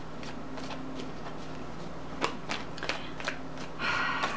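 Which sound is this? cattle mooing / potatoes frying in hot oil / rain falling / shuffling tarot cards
shuffling tarot cards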